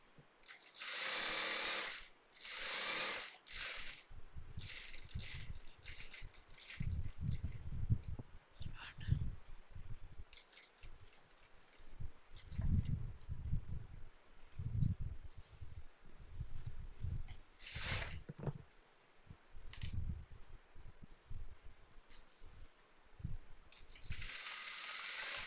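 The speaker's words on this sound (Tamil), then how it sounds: "அதாவது நல்ல பக்கம் தான் இப்போ தைக்கிறேன் நான்." A sewing machine stitches along the good side of a pillow cover in repeated close, rapid runs of mechanical whirring, with short pauses between the bursts.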